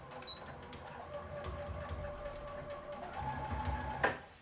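A sewing machine runs steadily while double stitching back and forth on a fabric face mask, a moderate mechanical whir with a short louder burst near the end.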